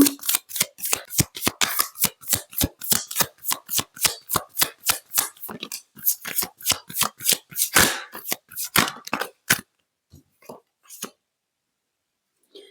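Tarot cards being shuffled by hand, a long run of quick crisp riffling snaps in steady rhythm, close and clear, then slowing to a few sparse card flicks and silence as cards are drawn.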